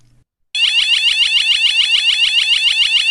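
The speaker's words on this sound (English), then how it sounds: "alarm is a piercing alarm sound which is actually 100 decibels loud." A PIR motion sensor alarm blares at its loudest 100-decibel setting, a piercing rapid warbling electronic tone that starts abruptly after a short silence and pulses evenly and close for about three seconds before cutting off.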